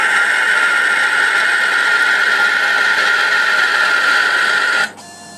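Emco PC50 CNC lathe turning CZ121 free-cutting brass rod at 250 rpm, 0.2 mm per pass: a steady, loud whining tone with a constant high cutting hiss, holding for nearly five seconds before abruptly dropping to a quieter hum.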